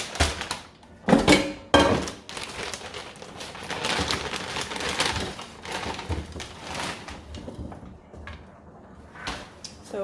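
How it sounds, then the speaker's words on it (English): Chicken strips are dropped into an air fryer basket, with clattering, rustling and handling knocks coming in irregular bursts, a few louder thumps near the start and quieter fiddling afterwards. "So I'm going to put my chicken strips in the air fryer."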